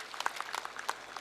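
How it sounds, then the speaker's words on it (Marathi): Scattered applause from an audience at a ceremony honouring women farmers, a few sharp claps standing out over a soft, thin patter. "जरूर टाळ्या वाजवून या सगळ्यांनी दाद द्या"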